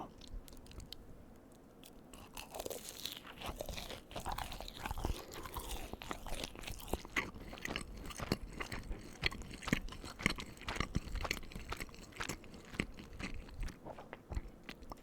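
Brazilian cheese bread balls eaten close to the mic, with repeated crunchy bites and moist chewing throughout, steady and quiet with no talking.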